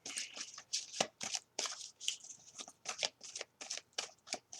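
Tarot cards are shuffled by hand in quick, close riffles and slaps, a rapid series of crisp papery bursts with brief gaps between them.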